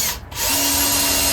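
A power drill drives screws while a Groz carpenter's front vise is mounted on a workbench, one brief continuous whir with a steady pitch after a short dip at the start.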